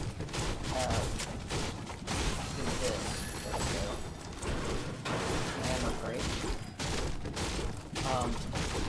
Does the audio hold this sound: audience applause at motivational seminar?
no